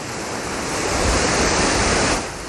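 Ocean waves rolling and curling in the wind, a broad rushing wash of surf that swells louder in the middle and then eases, heard alone.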